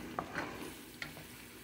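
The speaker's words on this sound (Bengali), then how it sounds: "তো আমি শাকটা একটু ভাজি করি।" Leafy greens fry and are stirred in a pan, a soft steady sizzle with a couple of light scraping stirs, quiet and close with no talk.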